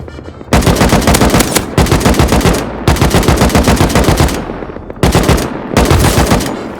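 AK assault rifle fire in the video game Rust, loud, close, rapid automatic bursts in three long sprays separated by brief pauses.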